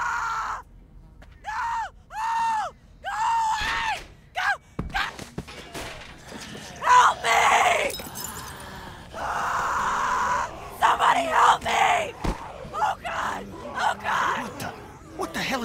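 In Telltale's The Walking Dead video game, a woman screams in pain in repeated drawn-out wails, then gasps and groans follow amid other voices talking, scuffling footsteps and a sharp bang.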